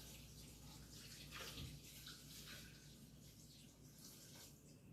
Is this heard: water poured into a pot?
yes